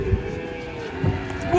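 Cattle being unloaded from a truck give low moos, one near the start and another about a second later, over a busy, steady background hum.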